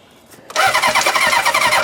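A barn-find Honda Hondamatic 750 motorcycle engine with four carburetors cranks over on its starter after a quiet moment, a loud, steady churning that continues without catching, no voices.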